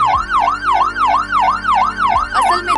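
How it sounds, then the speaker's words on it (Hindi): A wailing siren sound effect echoes through a mansion, rising and falling in a steady, rapid cycle of about eight loud sweeps, alone with no voices. "और तभी हवेली में सायरन की आवाज गूंजी।"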